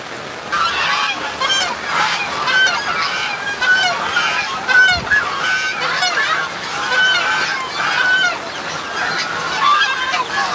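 Geese or ducks honk repeatedly within a farmyard flock, a steady chorus of nasal calls close by, with people talking intermittently over the birds.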